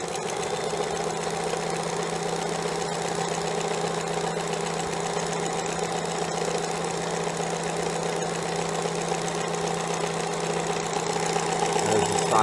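A sewing machine running with a side cutter attachment, trimming fabric edges as it sews: a steady, even mechanical hum and rapid whirring rattle at constant speed, close and continuous, with no talk.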